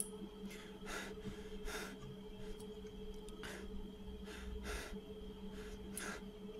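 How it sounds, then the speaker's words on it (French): Out-of-breath soldier panting in the video game Arma 3, with quiet, repeated breathy gasps about every second or so over a steady low game background hum. "comme vous pouvez l'entendre, il est essoufflé."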